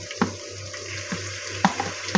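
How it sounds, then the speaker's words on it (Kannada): Food fries in hot oil with a steady sizzle and hiss, broken by a few sharp crackles and stirring scrapes, close and alone with no voices. "ಈಗ ಒಳಗಡೆ ಚೆನ್ನಾಗಿ ಫ್ರೈ ಆಗವ ಎಣ್ಣೆಯಲ್ಲಿ."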